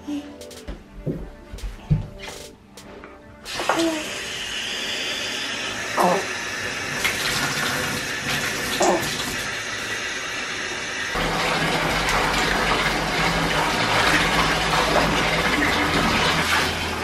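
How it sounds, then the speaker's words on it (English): A bathtub fills from the tap, starting with a few knocks and voices. Then water gushes and hisses steadily into the tub and grows louder toward the end, with occasional talk over the running water. "Should we turn on the water?"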